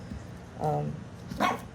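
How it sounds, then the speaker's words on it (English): An old senior dog barks a couple of times in the background, two short rough barks a moment apart, fairly near and moderately loud. "this little old man is really old, the one you hear barking back here."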